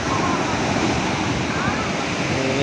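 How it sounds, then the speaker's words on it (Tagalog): Surf pounds a beach on the coast of Socorro, Surigao del Norte, a dense, loud, continuous wash of breaking waves close by with no pause. "kalabugan ng alon sa dalampasigan"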